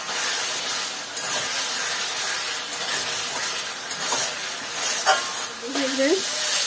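Ginger-garlic masala frying on a medium-low flame, giving a steady, loud hissing sizzle with soft stirring scrapes and occasional pops, close and continuous.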